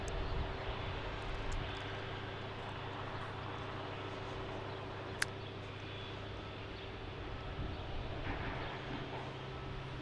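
A SkyWest airliner takes off from a Salt Lake City runway. Its engines make a steady, faint, distant rumbling roar that holds evenly throughout, with no voices.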